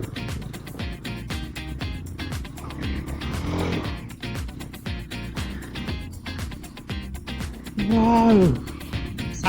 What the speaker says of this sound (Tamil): நல்ல ஒரு ஆஃப் ரோட் டிரைவிங் தான்